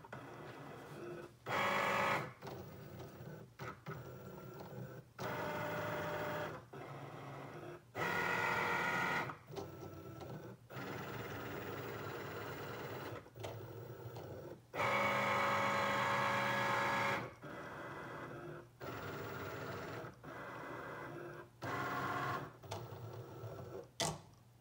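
A Cricut cutting machine scans registration marks on a printed card sheet, giving repeated bursts of mechanical whirring and buzzing as the carriage moves back and forth, separated by short quieter pauses, close and steady.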